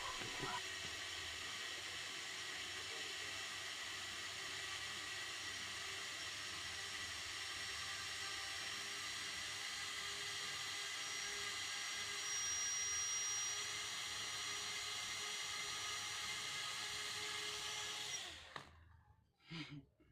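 Small drone motor spinning a single propeller on a bench test, a steady high whine with tonal hum held at moderate level for about eighteen seconds before cutting off abruptly, followed by brief clatter.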